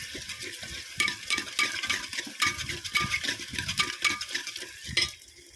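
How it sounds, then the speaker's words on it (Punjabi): Whisking gram flour into buttermilk for kadhi with pakoras, the whisk clicking and scraping in a quick, steady rhythm against the bowl, fairly close, with no voices. "ਅਸੀਂ ਬੇਸਨ ਨੂੰ ਵੀ ਚੰਗੀ ਤਰ੍ਹਾਂ ਫੇਟਣਾ ਆ ਪੂਰੀ ਤਰ੍ਹਾਂ ਫੇਟਾਂਗੇ ਲੱਸੀ ਦੇ ਵਿੱਚ"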